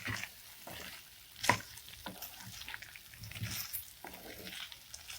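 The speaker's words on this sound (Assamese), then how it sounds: "নাৰিকল দিয়াৰ পিছত চব্জিখিনি ভালদৰে লৰাই থাকিব লাগে, নহ'লে নাৰিকলখিনি তলিত লাগি ধৰে। এতিয়া মই এইখিনি ভালদৰে লৰাই আছোঁ।" Raw papaya and coconut curry sizzles quietly in a frying pan while a spatula scrapes and stirs it, with a sharp clink near the start and soft irregular scraping strokes throughout.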